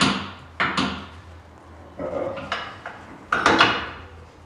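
A bolt and nut being fitted to the rear leaf spring of an EZGO TXT golf cart make several sharp metallic clunks and knocks at uneven intervals, close by and fairly loud.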